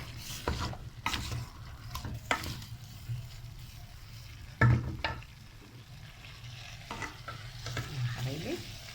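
Spoon stirring a pan of frying food with salt, before tomatoes go in: continuous close sizzle with repeated scraping stir strokes, and a sharper clatter partway through.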